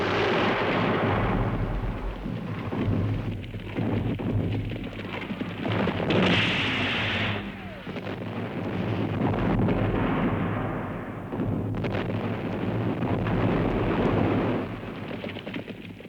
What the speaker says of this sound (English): The clamor of the guns continued.